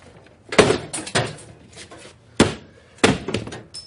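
An inward-swinging door struck and forced open with a forcible entry tool, sounding as a series of heavy, close thunks and impacts spaced irregularly, with scraping between hits.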